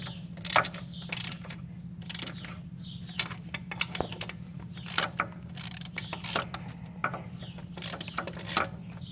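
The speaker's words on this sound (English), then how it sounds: "now I'm using a 10mm deep socket, and I'm just going to snug them" Ratchet with a 10mm deep socket snugging the throttle body bolts on a 2008 Chevy Impala. Rapid, close clicking comes in short irregular bursts over a steady low hum.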